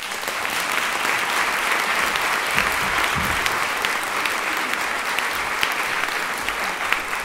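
Loud, steady applause from the crowd welcoming Lolita to the stage at a storytelling evening, a thick continuous patter of many hands clapping that stays strong for the whole stretch with no talking over it.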